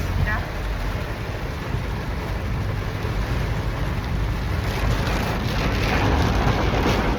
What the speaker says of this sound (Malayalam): നല്ല കിടുക്കാച്ചി മഴയാണ് ഗൈസ്